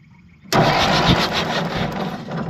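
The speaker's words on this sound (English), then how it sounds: "Let's crank it over and see if we see any sparks coming from those points now." An engine with its ignition switched on cranks over abruptly after a moment of quiet, a loud, dense churning that holds steady for about two seconds before easing slightly.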